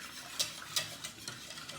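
A spoon stirs lemon pie filling in a pot as it heats toward a boil, giving soft scraping ticks at a steady rhythm of roughly one stroke every third of a second, quiet and close.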